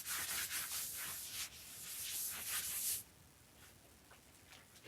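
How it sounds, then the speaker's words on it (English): A cloth soaked in rubbing alcohol is rubbed against a wall to clean it, making close, steady scrubbing strokes that continue for about three seconds before dropping to a quieter rustle. "using some rubbing alcohol to clean off the wall a bit"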